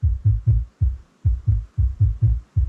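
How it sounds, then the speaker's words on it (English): Punchy electronic kick drum hits repeat in a steady, evenly spaced pattern within a music production track, each thump deep, loud and close, with no other instruments or voices. "Kick noises."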